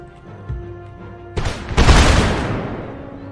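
Musket volley fire by rank in Empire Total War: a sharp crack, then a bigger, louder rolling volley of many muskets that decays into a rumble, all over quiet battlefield ambience.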